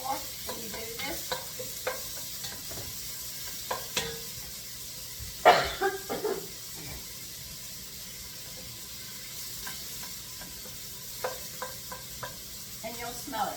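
Chopped onions frying in olive oil in a pan, a low steady sizzle beneath repeated clinks and scrapes of a utensil stirring, fairly close, with no voices.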